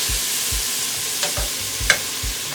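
A spoon stirs greens in a cooking pot in a steady rhythm of low scraping strokes about every half second, under a loud constant sizzle of frying, with no talking.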